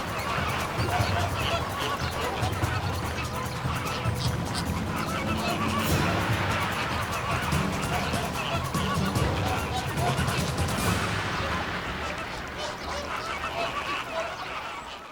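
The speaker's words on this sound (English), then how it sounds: "The Flamingo Air Force rises like a big pink cloud." A large flock of flamingos honks continuously as it takes flight, a dense, loud chorus of overlapping calls with wing rush, and a narrator's voice is heard briefly.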